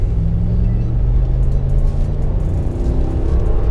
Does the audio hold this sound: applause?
no